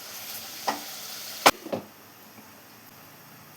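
Chicken thoran being stirred in a pan, with a few sharp scraping clinks of the spoon against the metal over a quiet, faint sizzle.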